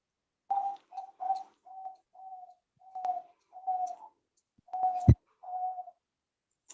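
Domestic pigeons cooing: a series of soft, low, rounded coos in a steady, evenly spaced rhythm, close by in a quiet setting, with one sharp knock near the end.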